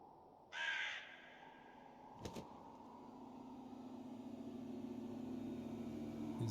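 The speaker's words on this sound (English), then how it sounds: "Another crow?" A crow gives a single harsh caw in The Seance of Blake Manor video game, clear and fairly near, then a brief knock as a low ambient drone swells underneath.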